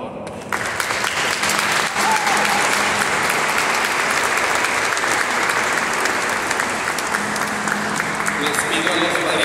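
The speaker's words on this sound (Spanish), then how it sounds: "Damos un aplauso, por favor." Church congregation breaking into loud, sustained applause that starts abruptly and continues steadily for several seconds, with a voice faintly heard beneath the clapping.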